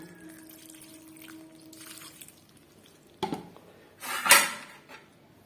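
Water poured into a pot or blender jar while making coriander leaf chutney, a short splash followed by a louder gurgling pour with light clinks of kitchenware, quiet and close.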